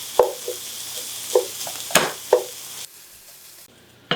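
Ground beef and chopped onions sizzle in a pan, a steady close hiss broken by several sharp scraping stirs of a utensil before the sizzle drops to a quieter hiss.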